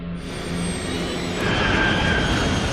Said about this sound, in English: The 100-ton jet screams lower and lower.